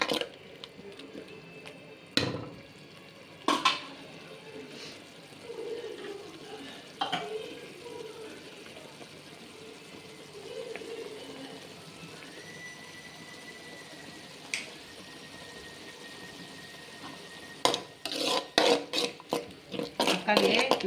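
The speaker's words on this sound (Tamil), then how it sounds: "அதுக்கப்புறமா நம்ம மசாலாலாம் கலந்துக்கலாம்." Spoon stirring masala into tomatoes cooking in a pan, faint scraping and occasional sharp clinks against the metal, with a busier cluster of knocks toward the end.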